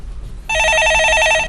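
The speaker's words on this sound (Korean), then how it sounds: "예, 전화 받아보겠습니다." A studio telephone on a Korean stock-market call-in show rings with a loud, steady electronic warbling trill that starts abruptly after a brief quiet pause and continues to the end.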